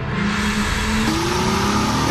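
A 2012 Acura TL with a 305 horsepower engine revs hard, a loud continuous engine note climbing steadily in pitch, close and alone.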